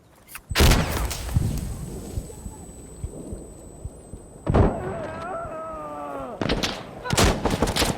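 A grenade explodes in the Insurgency Sandstorm shooter on a testing range: a loud booming blast, then a second heavy explosion with a ringing tail, amid more bangs and gunfire, with a tone whining throughout.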